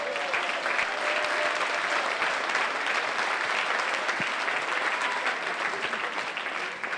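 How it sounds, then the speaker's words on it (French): A hall audience at a community meeting gives young people a steady round of applause, dense and continuous clapping at moderate volume that tapers slightly toward the end, with no speech over it. "On peut les applaudir."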